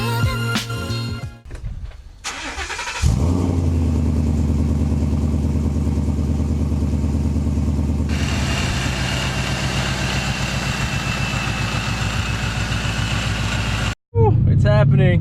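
A loud Ford Mustang starting up and idling rough and deep after sitting unused for some time, its rumble steady and close for a long stretch before cutting off abruptly, then briefly roaring again.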